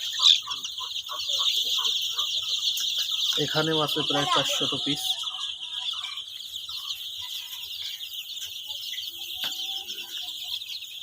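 A flock of fifteen-day-old Egyptian Fayoumi chickens on a farm keeps up a continuous high peeping chorus, with someone talking briefly over it partway through.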